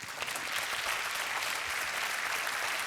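Audience applause at a televised singing competition battle round, a dense, steady wash of clapping from a large crowd lasting throughout without a break.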